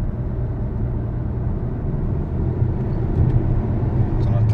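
Cupra Formentor 1.5 TSI 150 hp with DSG gearbox, engine revving up under acceleration; a loud, steady low rumble that builds slightly toward the end, with faint speech in the background.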